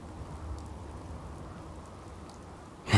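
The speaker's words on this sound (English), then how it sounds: "And it's raining" Soft, steady rain falls in the video game Fallout 4 as a quiet, even patter throughout, broken by a sudden loud burst in the last moment.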